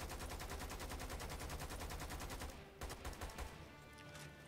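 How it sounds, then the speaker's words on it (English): Machine gun fire in the video game Lost Planet 2, a dense, rapid stream of shots for most of the stretch before it breaks into looser bursts. "We got machine gun too."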